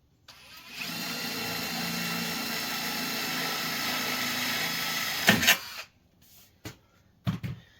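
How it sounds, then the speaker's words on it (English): A power drill with a 3/16 bit bores during a wood stove installation, a steady close whine running about five seconds before it stops, followed by a few short knocks and clatters. "I've got the 3/16 drill bit."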